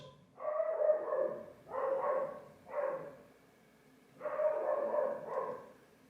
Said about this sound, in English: That's my neighbor dog. Ooh, I've never heard her bark before.